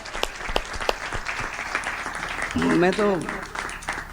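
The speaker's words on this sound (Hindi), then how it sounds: "यहाँ से लेकर और वहां तक हाथ उठाकर बजाओ ताली" Audience applause at a live Hindi comedy show, a sustained crowd clapping throughout with a voice speaking briefly over it partway through.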